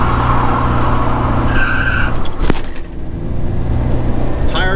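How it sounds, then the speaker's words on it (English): A 1987 Buick Regal Turbo Limited spinning its wheels at launch, loud engine roar with a brief tire squeal and a sharp burst partway through, close and steady. "There's a wheel spin."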